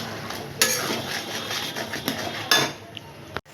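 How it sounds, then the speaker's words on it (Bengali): Chopped snake gourd is stirred with salt and turmeric in a cooking pan, making scraping, clinking utensil strokes and soft rustling up close, with no voices. "এখন এর মধ্যে আমি লবণ আর হলুদ দিয়ে ভালো করে নাড়তে থাকবো।"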